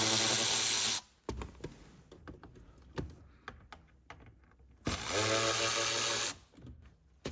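A small power screwdriver runs in two loud, steady whirring bursts while backing screws out of a Nissan Rogue heater box blower motor, separated by a stretch of close clicks, taps and handling noises.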